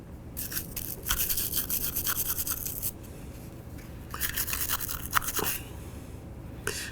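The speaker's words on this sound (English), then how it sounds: "we are going to wet brush this also with some solvent" A brush wet with solvent scrubs the lower frame of a Ruger LCP pistol in quick, close bursts of bristly scratching, separated by short pauses.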